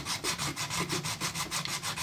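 400 grit sandpaper scuffs a plastic patch during a seat trim repair on a 1998 Lincoln Mark VII, making a steady rhythmic back-and-forth rasp with about a dozen even strokes, close and moderately loud.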